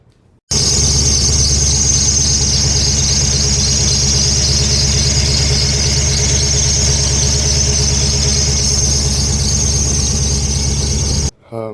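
1970 Chevelle engine running with a misaligned drive belt squealing, a loud, constant shrill whine over the steady idle rumble, starting abruptly and cutting off near the end, close by with no talk.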